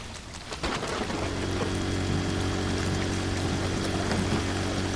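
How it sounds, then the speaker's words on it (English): Water gushes from a drain pipe into a barn in the Drain Sim video game during a flooded farm emergency, a steady loud rushing pour that starts abruptly and continues without a break. "That's going to blast a load of water into the actual barn itself."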